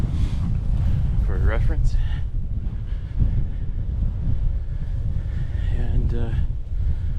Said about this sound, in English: And wind is pretty much coming right at us.